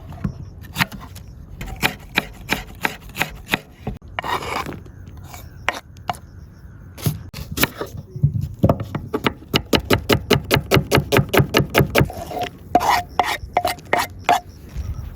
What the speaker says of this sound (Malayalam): ഇനി ക്യാപ്സിക്കവും ഉള്ളിയും ഒക്കെ തന്നെ നേരത്തെ കട്ട് ചെയ്ത അതേ സൈസ് തന്നെ കട്ട് ചെയ്തെടുക്കാം